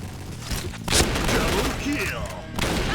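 Gunfire in a Point Blank online shooter, with bursts of shots and a heavy blast near one second, all under steady game noise and someone talking excitedly.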